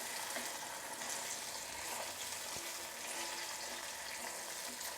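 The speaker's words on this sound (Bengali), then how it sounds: "এটা আমি শ্যালো ফ্রাই করে নেব।" A seasoned egg shallow-fries in a pan, giving off a steady, soft, broadband sizzle with faint crackles and an occasional light tap, continuous and fairly quiet throughout with no voices.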